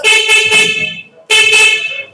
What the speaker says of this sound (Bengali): এই যে হর্ন বাজাইলাম দেখলেন এই হর্নটা কিন্তু একটা হর্ন বাজে নাই এখানে দুই দুইটা হর্ন বেজেছে